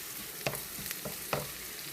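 Onions sizzle steadily in hot oil with green chilli and curry leaves in a pan, a close continuous frying hiss broken by a few sharp spoon scrapes and stirs.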